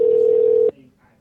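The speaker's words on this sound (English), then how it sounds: "Well, it says it's ringing." On a live call-in radio show, a phone line gives a single steady ringback tone for under a second, then cuts off to quiet studio background.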